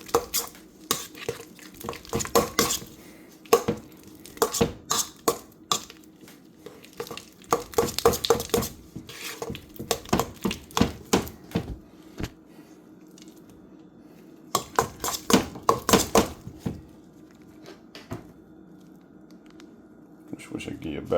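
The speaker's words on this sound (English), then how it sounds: "Or a steel spoon to cream all this butter." Butter is creamed by hand with a steel spoon in a bowl for pound cake, with repeated close scraping and squishing strokes coming in uneven bursts and short pauses between them.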